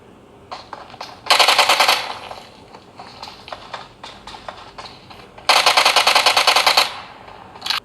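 Two loud bursts of rapid automatic gunfire from the PUBG video game, separated by scattered single shots and softer clicks, played close and dominant with no talking.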